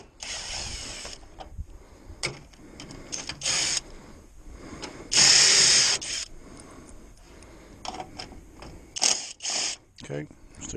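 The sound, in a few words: power drill removing bolts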